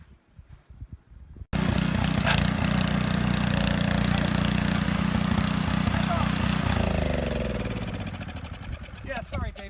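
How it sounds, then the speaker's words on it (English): A snow blower clearing neighborhood driveways after a snowfall roars to life after a short quiet moment, then holds a loud, steady engine drone that eases slightly toward the end. "He's graciously going around the neighborhood, snow blowing off people's driveways"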